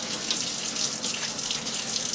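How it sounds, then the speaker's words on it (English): Water splashes and runs while a cast iron roasting pot is washed with soap and lukewarm water, a steady hissing rush with faint sloshing, close and continuous. "thoroughly wash it with soap and just maybe some lukewarm water."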